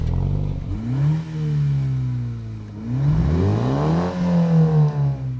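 A Toyota Supra 2.0 engine revs up and down in several long pulls, its droning tone rising and falling, loud and close with no talking.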